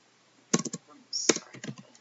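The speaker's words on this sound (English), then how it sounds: "we're going to type in deposit" Quick bursts of typing on a computer keyboard, a few clustered clicks, a pause, then another short run of keystrokes, close and clear with no voice over them.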